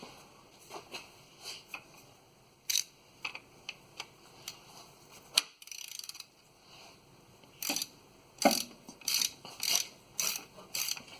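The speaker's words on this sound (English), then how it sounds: "And I think I'm going to have to wrench it out. I'm going to go get a ratchet." Ratchet wrench loosening a bolt on the front differential of a 2005 Dodge Dakota, quiet irregular clicking bursts and short ratcheting runs, close and faint.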